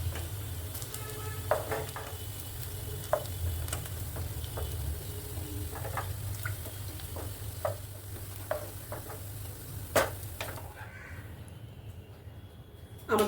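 Papaya balls for malai kofta frying in oil over a medium flame, giving a steady low sizzle with occasional clinks and scrapes of a spoon or spatula against the pan, close and fairly quiet, with no talking.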